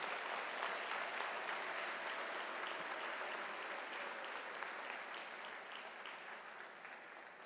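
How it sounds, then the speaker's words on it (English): Sustained, steady applause from a large crowd honouring university graduates at an autumn graduation ceremony in South Africa, dense and even throughout with no talking. "can we give our graduates a warm round of applause?"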